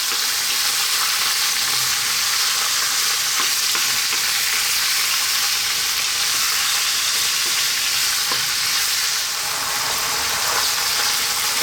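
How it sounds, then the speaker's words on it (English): Beef curry frying in a pan over medium heat and stirred now and then: a steady, dense sizzle that fills the whole stretch, with faint scrapes of stirring and no voices. "we're going to cook this on a medium heat for about 8 to 9 minutes"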